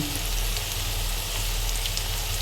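Dried red chili powder, green chilies and tomato paste fry in a pan for a Bengali prawn curry, a steady, dense sizzle that stays loud and close throughout with no voices.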